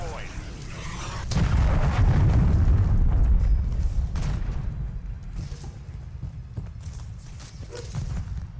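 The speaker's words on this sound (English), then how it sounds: "Friendly cruise missile deployed." A cruise missile explosion in a Call of Duty-style military shooter lands as a deep booming blast that swells and rumbles for a few seconds, then fades into scattered game noise and faint voices.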